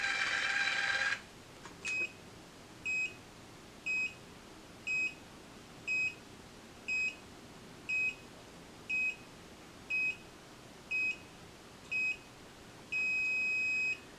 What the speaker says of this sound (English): That beeping goes on the entire time.